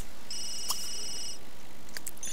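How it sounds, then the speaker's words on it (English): A phone rings in The Sims 3 video game, a bright electronic trill lasting about a second followed by short chirping beeps, set against a low steady background hum. "we got a phone to answer"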